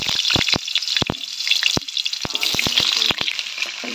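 An egg omelette fries in a pan with a close, continuous crackling sizzle, punctuated by sharp pops and spatters.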